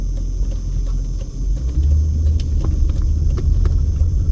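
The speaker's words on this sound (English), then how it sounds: "we've got a car coming at us here" A car approaching and passing at night on a residential street in East Las Vegas, a steady low road rumble that swells louder midway and holds close, with no talk over it.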